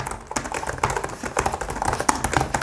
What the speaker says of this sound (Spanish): Es que suena tan bien, me parece que suenan tan bien las teclas y que es tan gratificante que el teclado es una maravilla